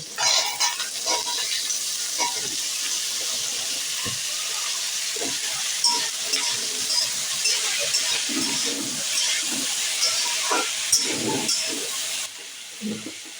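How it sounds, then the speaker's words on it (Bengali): Small potato pieces and slit green chillies fry in hot oil, giving a steady close sizzle with crackles and occasional stirring clinks throughout, no talking. "এরপর আমি কেটে রাখা ছোট ছোট করে আলুগুলোকে দিয়ে দেব তেলের মধ্যে"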